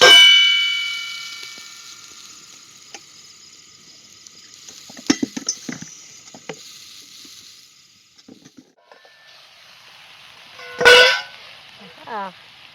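A sharp metallic clang opens, followed by light clinks and scrapes, then a louder clattering thump as an upturned metal plate settles over a pan; no talking.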